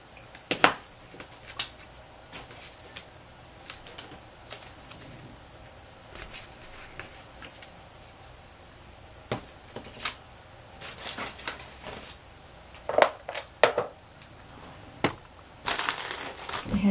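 Washi tape is handled and pressed down on a desk journal page, producing faint scattered crinkles, soft taps and brief peeling rustles spread across a quiet background.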